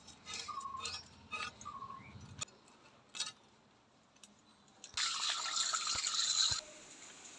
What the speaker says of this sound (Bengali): ইলিশ মাছ দুটো কেটে দিয়ে পরিষ্কার করে নেওয়া হচ্ছে